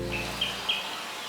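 A few short, high bird chirps, spaced apart over a soft steady background hiss.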